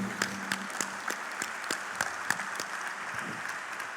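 An audience at a sugar industry convention session applauds, a moderate, fairly sparse patter of individual claps in an indoor hall, steady and continuous throughout.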